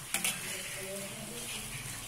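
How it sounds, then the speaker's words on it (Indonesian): Sweet potato strips frying in oil while being stirred, a soft continuous sizzle with a couple of sharp utensil knocks at the start, quiet and close. "Langsung saja kita aduk-aduk supaya ubinya menyebar dan tercampur rata atau terendam"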